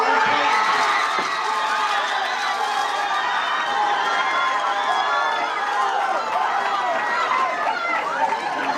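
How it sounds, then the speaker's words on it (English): A crowd cheers and applauds for first-place award winners from San Antonio at the TXGD awards ceremony, a dense, steady wash of clapping, whoops and chatter filling the room from start to finish. "Ladies and gentlemen, a big round of applause for our cross-examination winners."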